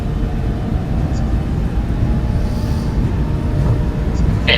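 Two jet engines on a Boeing 737-600 roar steadily at takeoff thrust, a dense, continuous low rumble with broad hiss heard from the flight deck. Faint radio chatter sits underneath.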